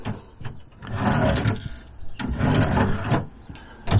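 A wooden drawer slides along its runners into a self-built camper van kitchen unit, a sustained rubbing, rumbling scrape in two long pushes with a knock at the end, close by.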